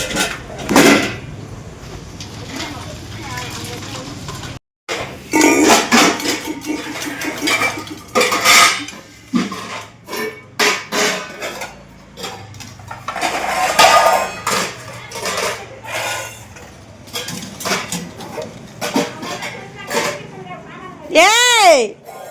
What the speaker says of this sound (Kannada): ಪಾತ್ರೆ ತೊಳ್ದಕ್ಕೆ ಬಿಡೋಣ